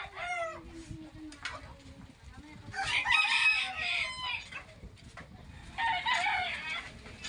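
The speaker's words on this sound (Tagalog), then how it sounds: "Ito yung mga manok, tatalaok sa init." Roosters crowing outdoors by the sea, two long full crows nearby with some clucking, over wind and a faint voice at the start.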